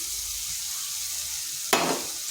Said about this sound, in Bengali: এই মশলার সাথে একটু ভেজে নিচ্ছি